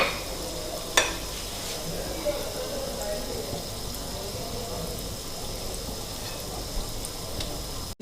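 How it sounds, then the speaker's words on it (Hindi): Gulab jamun frying in oil and being stirred, a soft continuous sizzle with a few clinks of the utensil and a voice talking over it. "ये देखिए इस तरह हिलाएं ताकि ये गोल्डन हो जाए सारी तरफ से"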